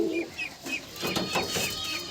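Bellangar pigeons in a loft coo and call in quick repeated bursts, close and overlapping, with no talking.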